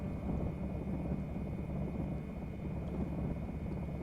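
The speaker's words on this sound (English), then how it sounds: "in my headset, that helicopter noise is bouncing from ear to ear" Helicopter in Project Zomboid, a low steady rotor rumble with a faint constant whine above it, distant and quiet, droning evenly without pause.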